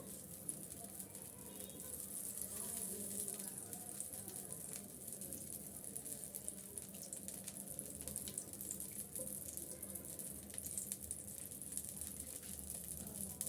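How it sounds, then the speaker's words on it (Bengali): Four eggs fry lightly in a pan with a steady, continuous sizzle and crackle that stays even and moderately loud throughout, with no talking. "ডিম চারটে আমি একটু হালকা ভেজে নেবো"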